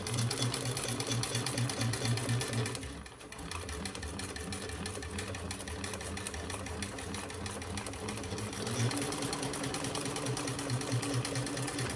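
A domestic sewing machine runs steadily up close, stitching a lining piece into a crossbody sling bag, with a brief slowdown near the start before the motor hums on evenly at full speed.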